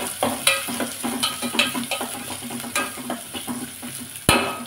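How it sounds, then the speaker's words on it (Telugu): Chopped onions fry in hot oil in a pan for a capsicum curry, a steady sizzle broken by regular scraping and stirring strokes and light clinks of a spatula against the pan, close and fairly loud. "ఆనియన్స్ బాగా వేగాలండి"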